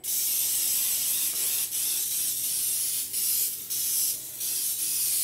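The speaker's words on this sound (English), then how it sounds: "another option to putting Crisco and flour on a pan is using Pam baking spray" Several bursts of hissing Pam baking spray onto a baking pan, a long continuous spray broken by short pauses and quick follow-up sprays, close and loud.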